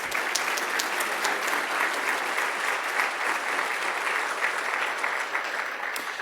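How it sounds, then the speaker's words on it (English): A large audience at a gala program gives a sustained round of applause for the sponsors, dense and fairly loud, holding steady across the whole stretch before easing slightly at the end. "Let's give our sponsors one more big round of applause."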